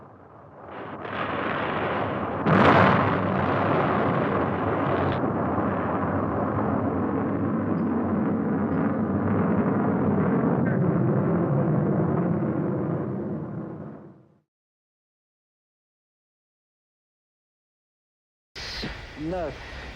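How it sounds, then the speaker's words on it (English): An Atlas rocket failure as the escape rocket pulls the capsule away from the booster: a loud, continuous roaring rumble with a sharp burst early on runs for about fourteen seconds, cuts to silence, and a brief voice follows. "The escape rocket takes the capsule away from the booster."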